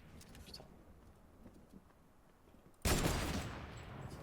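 Gunfire in Fortnite, a sudden loud burst of rapid shots that erupts after quieter in-game ambience with faint distant pops, then continues as dense crackling fire.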